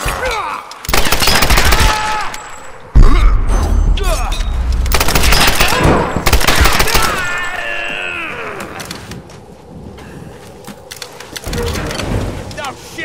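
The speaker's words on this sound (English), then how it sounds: "Keep firing!" Gunfire in the 2013 Tomb Raider video game, loud bursts of rapid shots mixed with crashing effects and rain-like noise. Voices shout over parts of the fighting.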